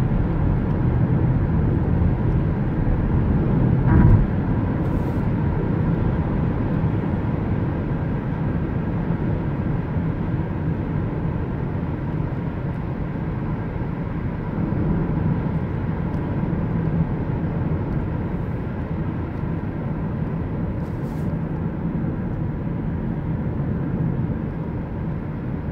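Steady broadband rumble of tire and road noise inside a moving Hyundai Kona Electric, a continuous low roar with no engine sound, even in level throughout with one brief knock early on.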